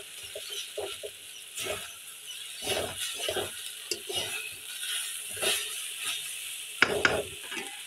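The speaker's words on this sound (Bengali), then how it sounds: "ভাজি করতেছি।" Vegetable bhaji frying in a pan, with a soft constant sizzle broken by intermittent scraping stirs of a spatula, close and fairly quiet, with no talk.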